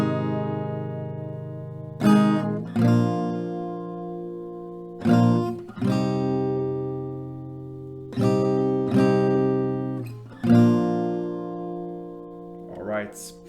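Strummed acoustic guitar chords from a song, played in sparse phrases. Each strum rings out and decays slowly before the next group of strokes, with no voice over it.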